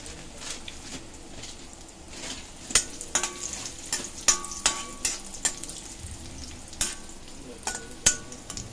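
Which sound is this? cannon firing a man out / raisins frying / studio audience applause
raisins frying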